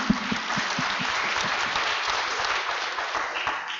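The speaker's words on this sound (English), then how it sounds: "Let's give them a round of applause" An audience at an agriculture and nutrition forum applauds its panelists in a steady, fairly distant round of clapping that holds for the full few seconds.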